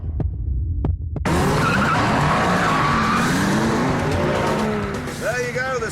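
A 5.4 litre V8 and a 6.5 litre V12 police car race on a track, engines roaring loudly and continuously with tires squealing and skidding throughout, opening with a few sharp knocks before the roar builds.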